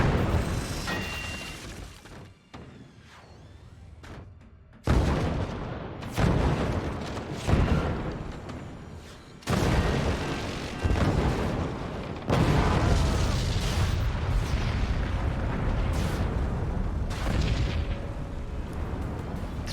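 Scatter shot weapons in the Forts RTS game, a Pro League 2v2 semi-final match, fire in loud cannon booms and repeated explosive bursts that come in waves, with brief quieter gaps between heavy barrages.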